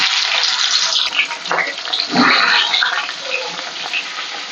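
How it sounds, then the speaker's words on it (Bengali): Pomfret fish rubbed with salt and turmeric sizzle in hot mustard oil in a wok, a loud, close, hissing crackle that swells as the fish goes in, then settles to a steady fry. "গরম হয়ে গেছে, মাছগুলো এক এক করে ভেজে নেব।"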